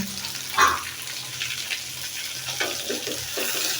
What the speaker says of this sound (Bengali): আর এক চুলায় মাছ ভাজি বসাই দিচ্ছি